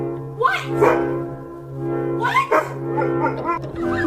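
A dog whimpers and lets out a few short, close yipping barks, with high whining calls spaced over a few seconds above a steady low hum.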